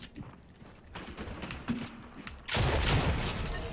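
Gunfire from a sniper engagement in Fortnite, with scattered shots and impacts followed by a loud, sustained burst of shooting near the end, close and dominant with no talking.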